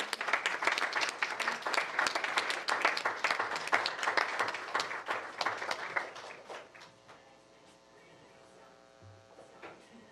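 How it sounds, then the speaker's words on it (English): Audience applauding at a school board meeting, steady clapping for about six seconds that quickly dies away into a quiet room hum. "give them a round of applause for all their hard work"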